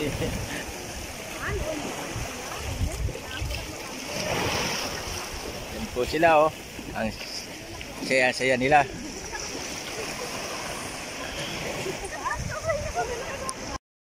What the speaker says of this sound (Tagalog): Dito na po kami sa dagat. Naliligo po sila.